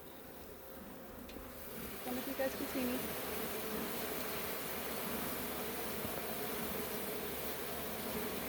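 Honey bees hum around an open beehive during a hive check, a steady, dense buzzing that swells slightly and holds throughout, with someone speaking briefly over it.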